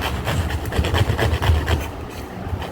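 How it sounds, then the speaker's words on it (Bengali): Pointed gourd (potol) grated by hand for fritters, a fast rhythmic rasping scrape close up that stops near the end, with no talking. "এইভাবে আমার পটলগুলো ঘষে ঘষে আমি দিয়ে একটা বড়া তৈরি করবো আর কি"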